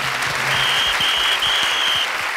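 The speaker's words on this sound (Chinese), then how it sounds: "拍拍手。" Studio audience clapping on a Taiwanese TV variety talk show, a steady dense burst of applause filling the room for a couple of seconds, with a faint tone running through it.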